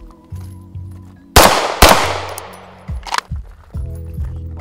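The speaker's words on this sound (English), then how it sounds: "We just nailed it with a armor piercing 30-06." Armor-piercing .30-06 rifle rounds strike a level 4 armor plate outdoors, two loud sharp cracks a moment apart with long broadband decay, then a few smaller knocks and a steady low hum of nearby machinery.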